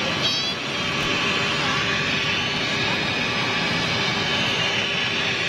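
A Ryanair Boeing 737 jet passes overhead, a steady broad roar of engine noise at moderate loudness, with faint voices in the background.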